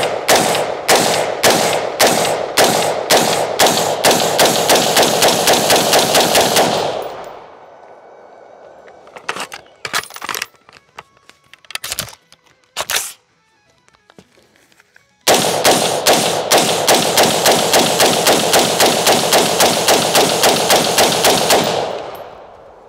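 A custom-built rifle fired in long rapid strings of loud, evenly spaced shots, then a pause with a few scattered clanks and bumps, then another long rapid string; no talk.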